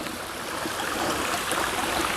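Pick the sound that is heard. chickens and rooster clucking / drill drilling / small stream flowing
small stream flowing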